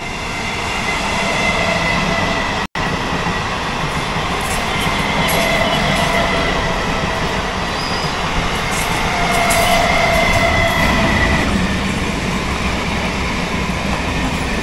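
A passenger train on the Ayodhya to Kolkata route rolls on steadily with a loud, continuous rumble of wheels and carriages, carrying a faint metallic squeal and a steady clatter throughout, heard from inside with no talking.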